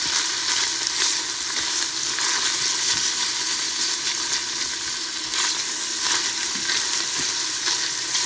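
Bacon fries in a pot as the base for a 15-bean soup, giving a steady, close crackling sizzle with occasional stirring and scraping sounds throughout.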